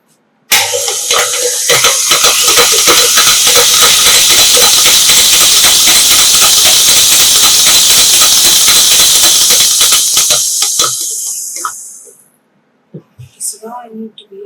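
An electric mixer beating vanilla cake batter for an eggless vanilla butter cake, a loud steady whirring hiss running for about eleven seconds before cutting off, followed by a few faint clinks.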